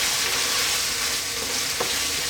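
Meat sauce mixture with salt and ground black pepper stirred in a hot pan, a steady close sizzle and frying hiss with a faint scrape of the spoon, no talking.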